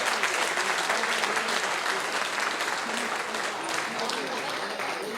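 Dense, steady applause from a seminar audience at an Indian agricultural company event, a continuous wash of many hands clapping at even loudness from start to finish.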